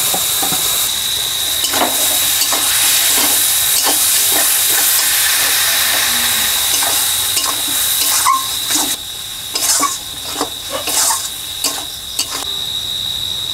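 Ground onion, ginger-garlic paste and spices with Kashmiri chilli hit hot oil, giving a loud, continuous hiss with a steady whine, then the sizzle breaks into uneven bursts as the pan is stirred.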